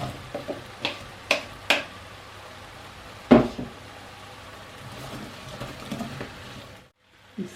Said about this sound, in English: stir in the potatoes